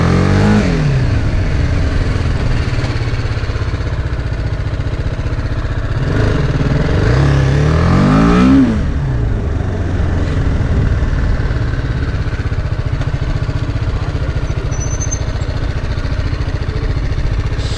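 A BMW naked motorcycle being revved and accelerated on a test ride at a showcase event in Guwahati, loud and close, with rising and falling engine pitch sweeps around the middle and a steady running drone throughout.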